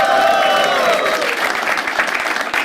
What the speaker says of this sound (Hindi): क्या हम लोग उरूज के लिए ताली बजा सकते हैं?